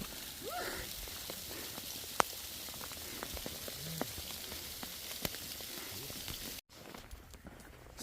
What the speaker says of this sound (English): It's a full rain.